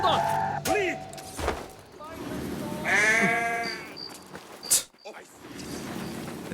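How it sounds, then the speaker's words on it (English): Sheep in Assassin's Creed Mirage bleat twice, clear mid-range cries in the game soundscape, with someone talking over and around them and some thumping. "The double sheep sound."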